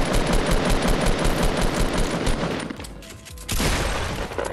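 Rapid automatic gunfire in the video game Fortnite Battle Royale, loud dense bursts of shots with a brief lull before firing resumes.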